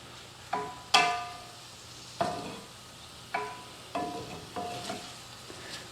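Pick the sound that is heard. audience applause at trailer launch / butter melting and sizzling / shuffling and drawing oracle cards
butter melting and sizzling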